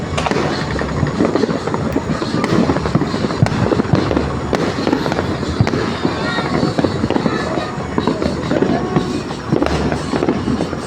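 Firecrackers and fireworks bang continuously in a dense crackling barrage on New Year's Eve, loud and close throughout, with a voice faintly audible under the noise.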